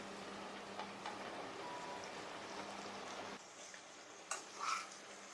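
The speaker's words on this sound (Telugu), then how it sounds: "ఇప్పుడు బెండకాయ ముక్కలు వేసేసుకో" Okra pieces dropped into a pan of fried onions, a soft steady sizzle and hiss that drops quieter partway through, followed by a few faint stirring clinks.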